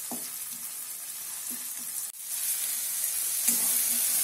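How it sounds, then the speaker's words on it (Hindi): Garlic and ginger paste fries in a pan for Bengali aloo dum, a faint steady sizzle with occasional soft stirring clinks and scrapes close by. "जो हमने गार्लिक और अदरक का जो पेस्ट दिया था मेरे हस्बैंड ने वो थोड़ा फ्राई हो गया है"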